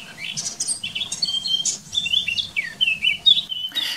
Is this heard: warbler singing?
yes